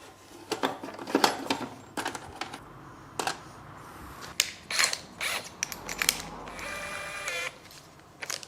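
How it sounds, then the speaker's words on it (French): A clamp is cranked tight on kitchen cabinet carcasses in a woodworking shop, giving irregular bursts of sharp mechanical clicks and ratcheting snaps spread over several seconds, close and fairly quiet, with no talking. "Quand on vient resserrer là, clac, clac, clac, il y a tout qui rentre"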